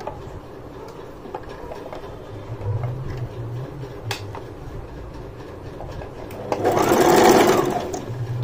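Sewing machine stitching gents underwear fabric, a steady low mechanical whir that runs under the clip, swelling briefly louder near the end.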